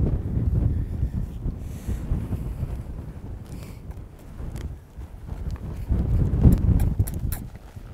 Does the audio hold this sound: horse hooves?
yes